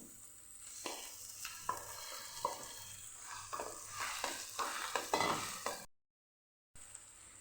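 Mashed potato being stirred into a sautéed ginger, garlic and chili paste in a pan, with repeated scraping strokes over a soft sizzle, then a brief dropout before the frying resumes.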